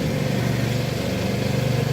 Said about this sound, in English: Sorry for the lawnmower noise. It's my neighbors.